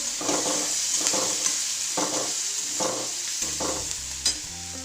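Coriander and turmeric being stirred and fried with leftover chapati in a pan, a steady sizzle broken by rhythmic scraping stirs about once a second.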